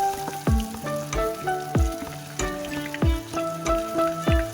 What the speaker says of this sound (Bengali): আবার ডুবিয়ে ডুবিয়ে আরেকটা লঙ্কা ছেড়ে দিলাম।